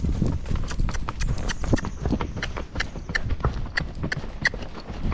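Rocky Mountain Horse hooves clip-clopping in a quick, steady rhythm as the horse is ridden uphill at a faster gait, close and continuous with rustling between the beats.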